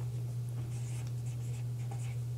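Pen writing on top of a folded paper pamphlet, faint light scratching strokes scattered over a steady low electrical hum.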